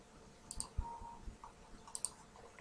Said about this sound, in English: And I'll go ahead and click save.